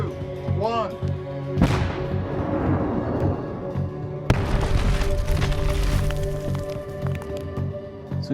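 A test bomb set off from a bunker about half a mile away gives one sharp loud blast near the start and a second heavy boom midway, each followed by rolling rumble, with talk over the noise.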